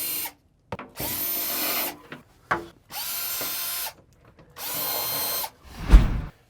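A power drill tightens pivot blocks and floor plates while a four-panel bifold door is being installed, running in several bursts of about a second each that are separated by short pauses. The drill sounds close and steady, with a low thump at the end.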